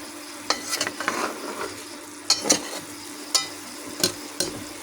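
Onions and eggs cooking in a pan give off a soft, steady sizzle, broken by repeated scraping clicks from stirring at irregular intervals, fairly quiet and close with no voices.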